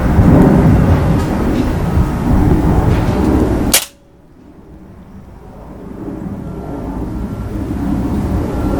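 A Beeman 1357 air gun fires a single shot loaded with a Baracuda FT pellet, producing one sharp, loud crack that cuts off a steady noisy background, followed by quieter ambient hiss.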